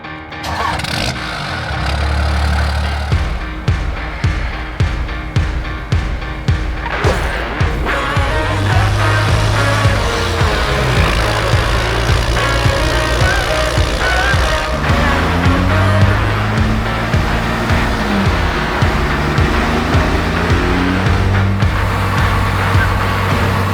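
A 33-year-old diesel pickup truck engine under load on a dyno: a loud, steady diesel drone that starts with a string of rough pulses, then settles and climbs in pitch as the pull builds, with no voices over it.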